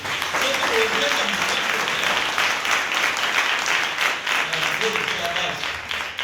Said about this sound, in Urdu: تو اس قربانی کے لیے زودہ تالیاں